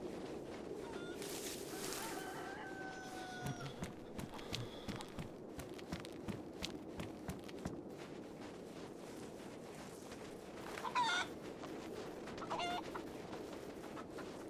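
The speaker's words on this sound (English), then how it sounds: "Where are you, Mr. Chicken?" A chicken in the winter survival video game DayZ, set in Chernarus, clucks in scattered bursts, alongside soft footstep-like thumps and low wind-like ambience.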